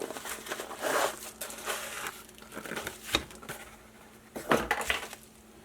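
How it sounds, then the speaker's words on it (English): A K-Bar law enforcement knife slicing open a package, with crinkling plastic and cardboard, scraping cuts and a few sharp clicks and rustles in irregular bursts up close. "Let's cut this open."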